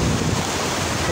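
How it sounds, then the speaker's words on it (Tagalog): Sea waves washing onto a beach in the morning, a steady broadband surf roar with wind buffeting the microphone throughout, no voices. "ganito pala ang dagat sa umaga"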